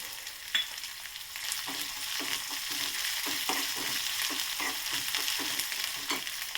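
Curry leaves sizzle and crackle in hot oil in a pan, with a steady frying hiss and a run of soft, evenly spaced stirring scrapes, close and moderately loud, with no talking.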